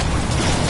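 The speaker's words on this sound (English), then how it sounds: "Stink bomb. Stink bomb." A stink bomb bursts during a match of the video game Evolve, a short, dense explosive blast with broad rumbling noise filling the whole moment at a steady loud level.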